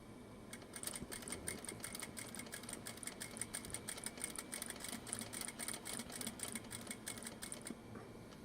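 A home sewing machine back stitching at a 3.0 stitch length runs in a steady, rapid mechanical whir with even needle clatter, close and continuous for most of the stretch before stopping near the end, with no talking.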